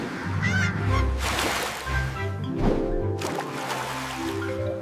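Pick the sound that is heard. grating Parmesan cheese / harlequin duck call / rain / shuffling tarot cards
harlequin duck call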